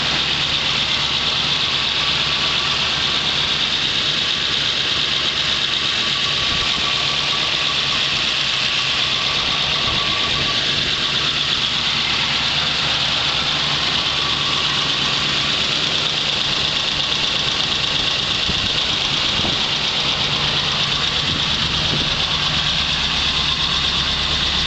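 A 1971 Chevrolet Camaro Z28 engine idles smoothly and continuously, a close, steady hum with an even rhythm and no hesitation throughout.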